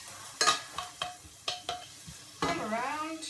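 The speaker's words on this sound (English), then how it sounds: "Listen to that sizzling." Onion sizzles in a hot frying pan while being stirred, with several distinct scraping strokes and clinks of the utensil against the pan, then a continuous close frying hiss.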